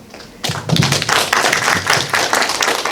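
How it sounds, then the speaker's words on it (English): An audience at the ICGTG 2022 conference bursts into steady, close clapping that starts abruptly and continues without a break to the end. "Please welcome him with a warm applause"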